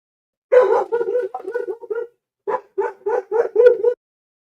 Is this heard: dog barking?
yes